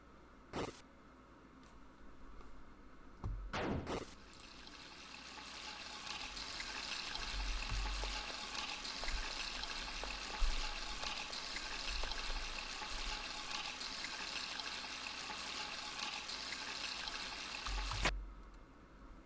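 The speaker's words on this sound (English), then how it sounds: "Off goes the faucet." Water runs steadily from a faucet in a game scene, a constant hissing splash that lasts for most of the stretch, with a few sharp clicks and thumps near the start and one near the end.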